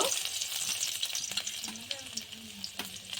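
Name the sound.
chopped garlic frying in mustard oil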